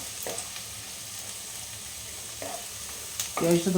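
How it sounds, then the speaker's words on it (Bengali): Food frying in a pan until browned gives a soft, steady sizzle with a few louder stirring clatters near the end, quiet and close, no talking. "ভেজে নিতে হবে লাল লাল করে এইভাবে"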